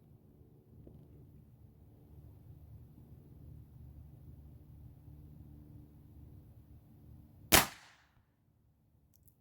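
A Gamo Varmint air rifle fires a single .177 pellet outdoors: one sharp, loud crack over a steady low background rumble, followed by near silence.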